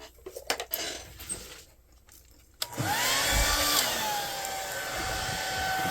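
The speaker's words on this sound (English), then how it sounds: "Put the dryer to it right away." A handheld dryer blows steadily and loudly, drying the primer coat on a custom-painted crankbait fishing lure, after a few clattering handling sounds at the start.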